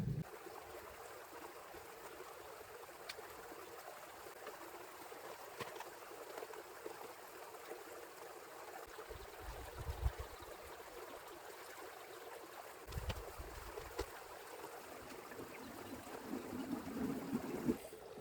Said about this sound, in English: camped up next to the creek. You might be able to hear the water running